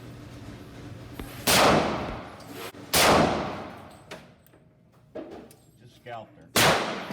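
Single shots from a Smith & Wesson M&P 40 pistol fired offhand outdoors ring out loud and sharp, four spaced a second or more apart, each with a short decaying echo and quiet pauses between.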